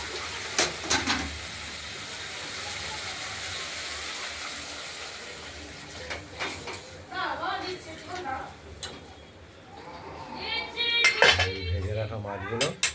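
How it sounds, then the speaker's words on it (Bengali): Water is poured into a pan of browned, oily masala for katla fish curry with potatoes, beans and tomato, bringing a sizzling hiss among clinks of a spoon and pot, with a voice talking nearby. "আমরা এবার জল দিয়ে দেবো।"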